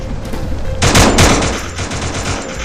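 A short, loud burst of rapid automatic gunfire in the Free Fire mobile battle game, crackling shots packed closely together with no talking.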